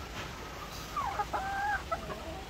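Gamefowl chickens in a coop give a few short, faint clucks and calls in the middle, over a quiet background hiss.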